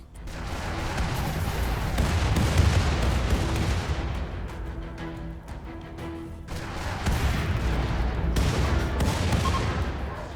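Weapons on a capital ship fire on a settlement in the colony sim RimWorld: a long, loud, continuous barrage of booming artillery and rattling gunfire. It dips briefly in the middle and then surges again.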